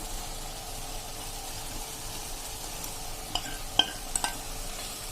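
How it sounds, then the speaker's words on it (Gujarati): A spoon stirs okra curry in a pan after water has been added, a soft steady sizzle and simmer with a few sharp clinks of the utensil against the pan near the end. "આ રીતે પાણી નાખ્યા પછી તમારે 1 મિનિટ થાય ત્યાં સુધીમાં તમારે હલાવવાનું છે"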